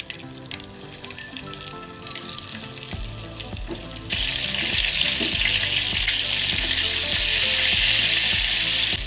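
Whole stuffed onions for a Gujarati onion curry are sautéed in hot oil. Light clinks come first, then a sharp burst of sizzling grows into a loud, steady, close frying hiss.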